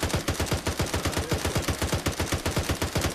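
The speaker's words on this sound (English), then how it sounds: "It's a machine gun, man." Sustained rapid automatic fire from a machine gun in a tactical shooter video game, a dense, steady stream of loud, close shots lasting the whole stretch, with no speech over it.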